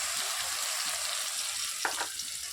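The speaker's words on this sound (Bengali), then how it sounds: "আদাটাও ভাজি ভাজি হয়ে গেছে এবার দিয়ে দেবো রেডি করে রাখা মশলাটা" Ginger and spice paste fry in a pan with a constant soft hissing sizzle, interrupted once by a brief stirring scrape near the end.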